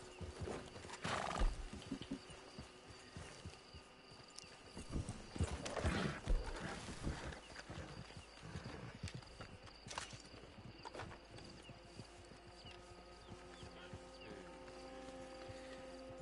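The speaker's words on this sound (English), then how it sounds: "That's not my horse." Horse hooves clip-clopping with a whinny and neigh in the Red Dead Online video game, steady hoofbeats running throughout under a faint constant hum, with a louder burst of movement midway.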